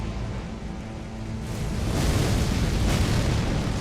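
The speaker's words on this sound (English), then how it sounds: "Again, it's a dive bomb and then an explosion." Messmer's dive bomb attack in the Elden Ring video game ends in an explosion: a broad roaring blast that swells midway and rumbles on loudly, with no talking.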